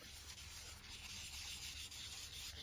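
Wooden revolver handle sanded by hand in a swirling motion, producing a faint, continuous soft rubbing hiss with slight rhythmic swells, no voices.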